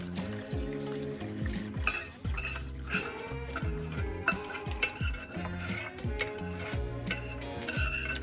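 Milk-yeast mixture is stirred into eggs and butter in a large bowl, with repeated scraping, clinking strokes and soft sloshing at a moderate level, without any voices.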